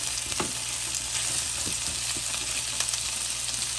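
Garlic butter steak bites are stirred in a sizzling pan, a constant loud frying hiss with occasional soft scrapes and taps from the utensil.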